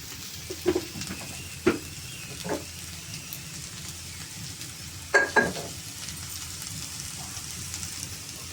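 Sliced okra fries in a pan with only a little oil, a soft continuous sizzle broken by a few louder stirring scrapes and clicks of the spoon.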